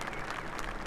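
A race crowd at an IndyCar practice at Mid-Ohio applauds in a brief, steady spatter of clapping and cheering as a driver waves after a crash, heard from a distance.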